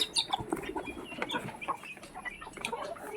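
Several chickens cluck and squawk nearby in short, overlapping bursts, with scattered chirps throughout.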